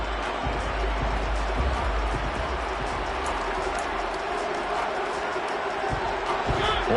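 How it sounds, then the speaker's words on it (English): Football stadium crowd building ahead of a big third down, a dense, continuous roar of many voices rumbling and swelling, loud and diffuse with indistinct shouts mixed in. "The crowd getting into it as we come up on a big 3rd down."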